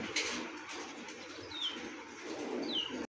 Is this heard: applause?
no